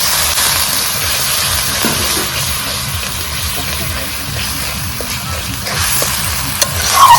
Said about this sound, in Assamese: আদা নহৰু পিঁয়াজ সেই পেষ্টটো আমি এতিয়া ফ্ৰাই কৰি লৈছোঁ